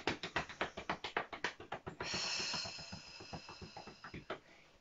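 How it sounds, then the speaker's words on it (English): Light, quick fingertip taps on the tummy, a steady run of soft close taps that briefly gives way to a gentle rubbing hiss before the tapping resumes, with no talking. "And we're going to use a little tap."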